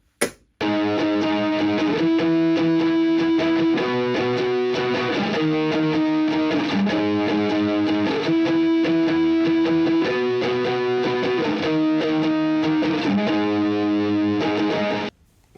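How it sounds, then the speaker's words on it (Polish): Electro-acoustic ukulele strummed through overdrive distortion, a steady, loud, sustained chord pattern playing alone for about fifteen seconds after a brief click at the start. "możecie na refrenach dać nieco przesteru i będzie brzmiało to tak"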